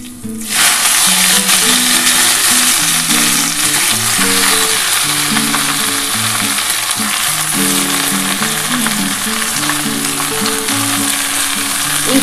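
Jute greens are tipped into hot oil already crackling with garlic, dry chili and black cumin, setting off a loud, dense, continuous sizzle. Soft musical tones play underneath throughout.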